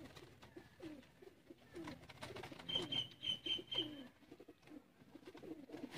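Kamagar pigeons coo close by in soft, throaty, repeated calls with an uneven rhythm, over faint background noise.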